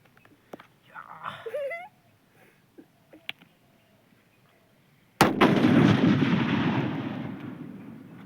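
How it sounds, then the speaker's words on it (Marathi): Firecrackers set off outdoors: after some faint background voices and a thin rising whistle, one sharp, loud blast erupts and trails into a long crackling, rumbling decay. "संपले फटाके मित्रांनो"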